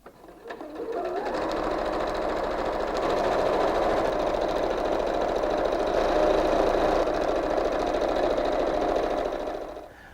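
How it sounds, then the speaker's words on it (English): A sewing machine runs steadily for about nine seconds, stitching long strips of fabric together with a quarter-inch seam, a close, continuous whirring hum with no talking over it. "So let's head over to the sewing machine."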